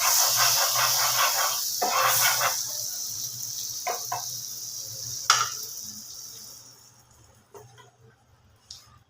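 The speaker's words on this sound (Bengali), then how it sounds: "বাটাটাকে একটু মেল্ট করে নেব" Butter melting in a hot pan for egg toast, a loud steady sizzling hiss that gradually fades and thins out toward the end, with a few soft clinks.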